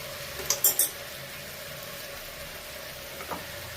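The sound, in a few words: vegetables frying in oil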